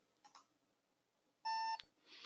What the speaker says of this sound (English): I have audible alerts set to give me an alarm in my headset when there's a market moving exclusive